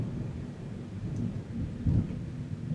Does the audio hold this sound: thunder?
yes